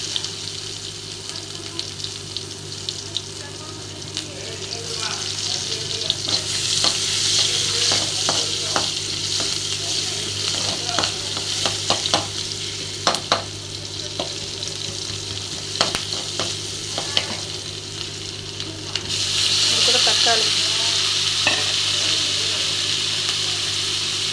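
Food sizzles and crackles in a hot pan with turmeric and salt added, stirred with frequent scraping clicks, steady and close, the sizzle growing louder near the end.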